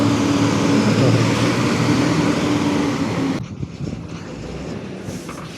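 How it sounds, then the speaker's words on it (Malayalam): A heavily loaded Leyland lorry labouring along a winding road in Kerala, its engine a loud steady drone that drops away abruptly partway through, leaving quieter road noise. "ലൈലൻഡിൻ്റെ ആ മൂളൊക്കെ ഒക്കെ കേൾക്കാൻ തന്നെ ഒരു രസമുണ്ട്"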